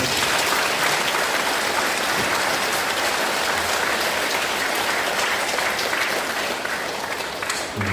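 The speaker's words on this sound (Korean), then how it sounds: "박수 한번 드리겠습니다" A congregation in a Catholic parish church applauds during a Lenten lecture by a priest, producing loud, sustained, hissing clapping that fills the hall evenly throughout.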